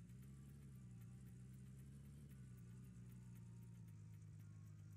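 A low, steady car engine in Gold Rush: The Game idles quietly in the background, a faint continuous hum with a slight vibrating rumble and no other sounds.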